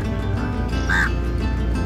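A single short caw of a crow rises briefly over a steady rumble of outdoor background noise on a boat at Chilika Lake, Odisha.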